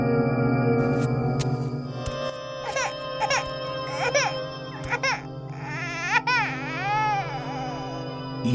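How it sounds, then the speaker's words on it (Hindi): An infant cries and wails loudly in repeated rising and falling sobs inside a horror-story scene, set over a low, eerie background drone. "ये रोने की आवाज कैसी?"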